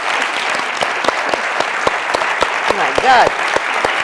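Steady applause from an audience, clapping continuously throughout, with a voice briefly exclaiming over it near the end.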